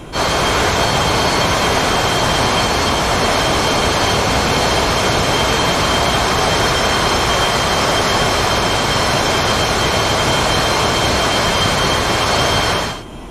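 An F-22 Raptor jet engine in DCS World spools up for takeoff, a loud, steady roar with a high whine held constant for about thirteen seconds before cutting off abruptly.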